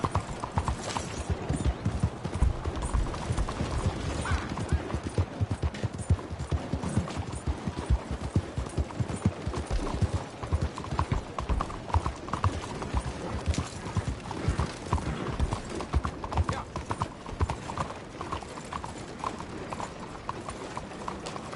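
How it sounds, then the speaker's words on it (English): Rapid, continuous clip-clop of horse hooves, loud and close, with a faint whinny and background bustle. "That's a hell of a horse you got there."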